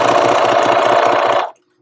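A sewing machine stitches an invisible zipper seam about half an inch in, running in a fast, loud, rhythmic mechanical chatter for about a second and a half before stopping abruptly into silence.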